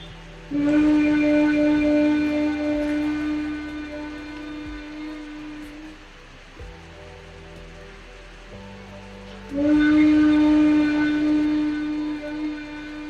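A voice hums a long, steady tone while exhaling in Bhramari bee breathing, pauses for a breath, then starts humming again, loud and close.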